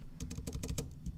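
Rapid keystrokes on a computer keyboard, about ten crisp clicks in an irregular run while a symbol is typed, close and clear with no talking.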